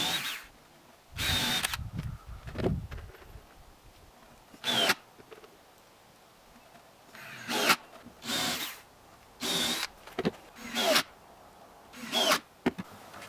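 Power drill driving screws into wood for a homemade mud kitchen, a series of short bursts of whirring spread across the clip, separated by quiet handling sounds, close up.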